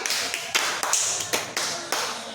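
Children in a classroom clap for a classmate in a run of about seven sharp, evenly spaced claps, fairly close, with no talk.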